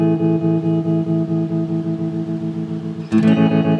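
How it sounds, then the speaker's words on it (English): Tremolo setting on a guitar combo effects pedal, a sustained chord with a steady rhythmic volume pulse, loud and alone, ending in a fresh strum. "that's going to be our tremolo side"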